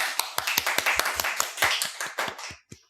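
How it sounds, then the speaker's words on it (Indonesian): A small audience claps during an Indonesian podcast on parenting and child psychology, a quick run of sharp, close hand claps lasting about three seconds before tapering off, with a faint voice underneath. "Tepuk tangan."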